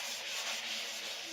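Light hand sanding with wet/dry sandpaper and water on a Plexiglas sheet, a steady soft rubbing hiss held close to the surface for a brief moment, alone with no talk.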